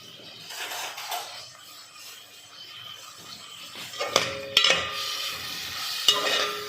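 Chopped onions fry for dhaba-style aloo gobhi, a soft steady sizzle in a pan broken by several sharp scraping strokes of a spoon stirring them, the louder scrapes bunched near the end.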